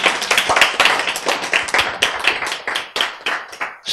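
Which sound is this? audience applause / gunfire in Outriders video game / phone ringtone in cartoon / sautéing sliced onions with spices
audience applause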